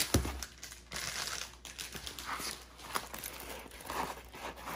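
Plastic packaging around a thick dust bag crinkles and rustles during an unboxing of a diamond painting kit, with soft, close, irregular crackles that rise and fade.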